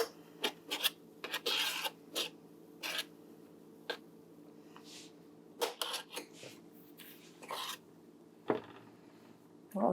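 A spoon stirs cocoa powder into nearly melted butter in a pot for an old-fashioned Coca-Cola chocolate cake, giving quiet, irregular scraping and rasping strokes close by, with brief pauses between them.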